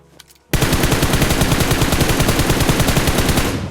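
Rapid, loud automatic gunfire comes from a scoped rifle in the PUBG Mobile game. It is one continuous burst of evenly spaced shots that starts abruptly and runs alone for about three seconds.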